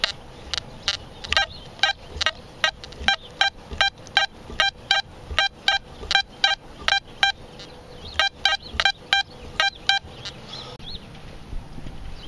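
Rapid series of short electronic beeps from an XP Deus metal detector signalling a poor, iffy target in a local park, pulsing in quick irregular bursts close by with no talk.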